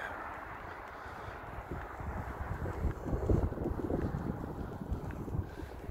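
Wind blows along the Blackpool seafront promenade, buffeting the microphone in a steady low rumble that swells and gusts louder toward the middle, with no talking heard.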